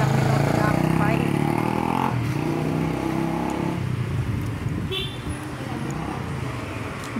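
A car passes on a road near a school pickup, a loud continuous engine and road rumble that slowly fades, with a short horn-like tone midway.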